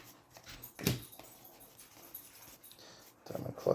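A dog whimpers and yips in short scattered bursts, faint and somewhat distant, amid quiet indoor room noise.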